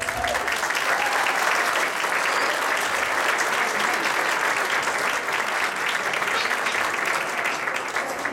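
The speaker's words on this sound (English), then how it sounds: "Give Miss Jamie a round of applause" An audience at a children's Christmas program gives a long, steady round of applause, dense and lively clapping that fills the room, with a few voices faintly mixed in.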